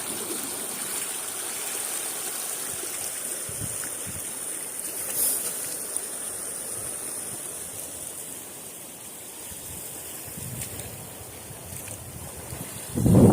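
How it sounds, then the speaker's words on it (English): Steady wind rushing outdoors beside a dam, buffeting the microphone over a broad roar of moving water, loud and continuous, with a brief bump near the end and no voices. "That wind is starting to get a little nippy."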